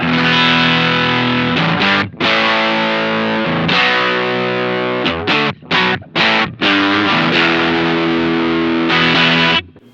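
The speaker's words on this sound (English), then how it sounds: "let's engage the overdrive section with the tone rolled up to fill out the treble end" Heavily overdriven electric guitar chords through a Pigtronix OFO Disnortion pedal, tone rolled up for treble, ring out loud and sustained, cut by a few brief stops and choppy bursts before ringing on again.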